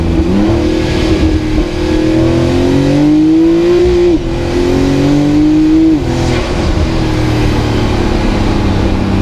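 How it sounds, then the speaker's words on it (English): A Fenyr Supersport turbocharged hypercar engine revs hard toward the red line, loud and close. The engine note climbs quickly, dips briefly, then climbs again in repeated rising sweeps with no voices. "You hit the red line quickly. For a turbo car, it actually revs very fast."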